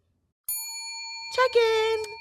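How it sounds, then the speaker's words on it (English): A single bright ding from a hotel check-in bell rings out cleanly and lingers, and a voice starts talking over its fading tail. "Let's ring the bell."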